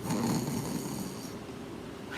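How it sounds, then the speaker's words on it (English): A man snores beside the listener at night, one close, low breathy snore swelling at the start and then fading into quiet room air. "My husband's just snoring next to me."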